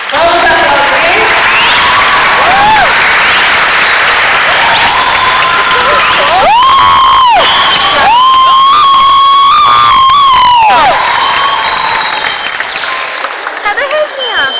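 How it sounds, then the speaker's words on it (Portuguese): Audience at a school theatre play of O Caixeiro da Taverna bursts into loud, sustained applause and cheering, with whistles and shouts rising over the clapping throughout, fading slightly near the end. "Vamos aplaudir?"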